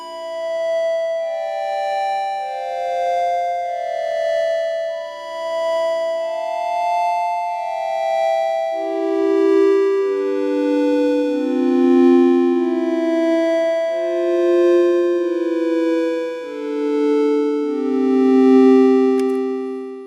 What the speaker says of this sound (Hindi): यही है जो कि जनरेटर से जो साउंड क्रिएट होता है, यानी कि कुछ सिंथेसाइजर से, इलेक्ट्रॉनिक सिंथेसाइजर